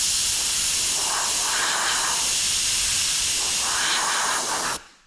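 An airbrush sprays paint onto a Halloween skateboard with a steady close hiss, swelling slightly in several short passes before cutting off abruptly at the end.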